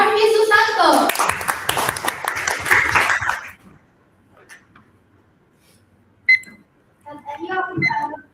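An audience in a conference room gives a round of applause for a stage presenter, dense clapping for about three seconds that fades out, followed by a quiet gap, a brief clink and then a voice speaking.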